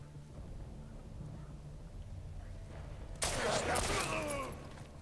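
Gunfire in The Last of Us Part II erupts as a sudden loud crackling burst partway through, after a quieter stretch of low ambient game sound.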